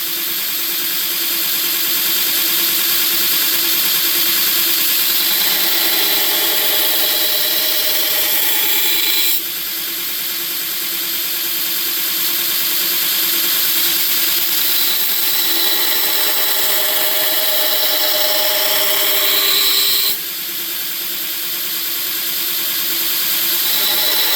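Belt grinder with a 40 grit belt plunge grinding the bevel on a knife blade, a loud, continuous motor whine and abrasive rasp held for long passes, with brief dips in grinding contact around two points, no voices.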